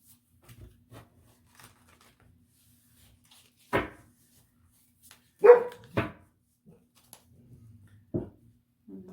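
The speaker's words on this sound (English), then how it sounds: "And the dog's getting excited." A dog barks in a few scattered, excited bursts, a couple of sharp single woofs spaced several seconds apart and fairly close, with quiet stretches and small knocks between them.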